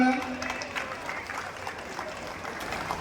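A crowd at a stage event applauds as district officials and dignitaries are welcomed up; a short burst of clapping fades slightly, with faint voices mixed in.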